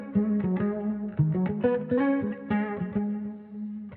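A guitar sample processed with chorus and reverb plays a plucked melodic phrase with shimmering, spacious tails, steady and fairly loud throughout, with no voices.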